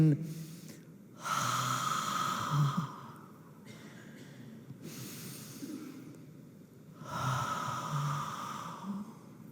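Slow, deep pranayama breathing from someone lying in corpse pose: two long, airy inhales a few seconds apart with a softer exhale between, close and moderately loud with no talking.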